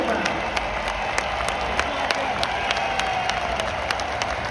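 A hockey arena crowd gives a sustained ovation, with dense steady applause and cheering filling the space and scattered louder claps standing out, continuous throughout.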